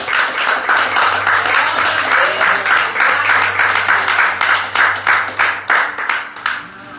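A Pentecostal church congregation at a communion service applauds, a dense wash of many hands clapping steadily for several seconds before thinning out into a few scattered claps, with a low hum beneath.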